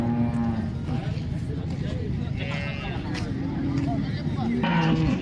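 Cows moo repeatedly at a busy cattle and buffalo market, with people talking and crowd noise throughout and traffic faintly behind.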